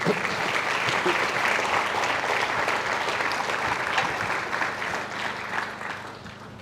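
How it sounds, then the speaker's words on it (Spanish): A church congregation applauds at a Sunday general service, dense and sustained clapping filling the room at steady loudness before easing slightly toward the end. "Denle un aplauso al Rey."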